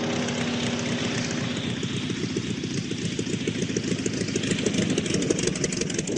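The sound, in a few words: vehicle engine rattling over potholes, radio drama effect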